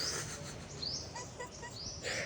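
Soft, distant bird chirps scattered over a low constant hum, a handful of brief high calls spaced unevenly.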